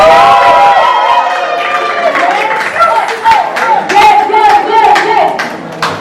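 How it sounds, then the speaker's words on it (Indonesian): At a film press conference, a loud audience applauds a film director with scattered claps under excited cheering and shouting voices, close and lively throughout. "Kita kasih waktu tepuk tangan yang paling meriah untuk Mas Paul Agus"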